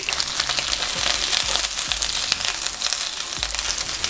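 Aromatic vegetables stir-fry in a spoonful of cooking oil for rajogi, a bright continuous sizzle punctuated by regular soft knocks of a spatula against the pan.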